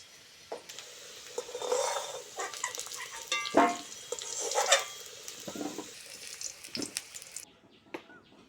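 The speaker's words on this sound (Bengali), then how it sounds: "প্রথমেই তেলের মধ্যে দিয়ে দেবো পেঁয়াজ কাঁচা লঙ্কা মটরশুঁটি" Onion, green chili and peas go into hot oil and are stirred in a pan, giving a soft sizzle under scraping spoon strokes and clinks from close by.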